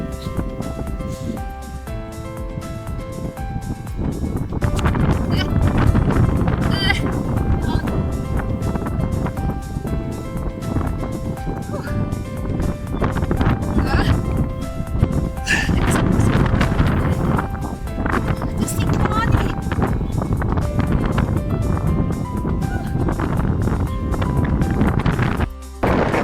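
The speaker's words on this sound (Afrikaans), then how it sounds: "Maar die wind waai verskriklik." Strong wind gusts roar steadily and loudly into the microphone outdoors, buffeting in uneven surges for the whole stretch with no voices.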